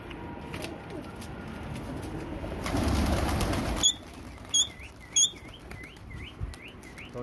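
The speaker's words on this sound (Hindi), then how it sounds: "अभी अभी कबूतर खोले हैं और अभी इनको उड़ाएंगे" Pigeons chirp and flutter outdoors as they are released, with a rustling burst of wings midway, followed by repeated short chirps over quiet background.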